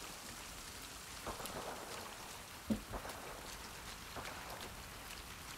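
Rain in the video game The Last of Us Part II falls as a steady, faint wash of patter. A few soft thuds and drips rise above it, and no voices are heard.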